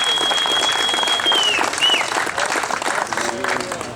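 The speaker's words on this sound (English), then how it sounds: "deserves another round of applause" An audience at a Second Amendment talk gives a speaker a strong, continuous round of applause, with a high whistle cutting through the clapping partway.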